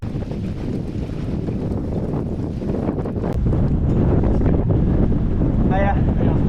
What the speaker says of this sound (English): if you can even hear me over the wind